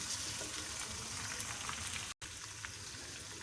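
A tomato frying with spices in a pan for methi chicken, with a dense, even sizzle crackling continuously up close, interrupted by one very brief dropout.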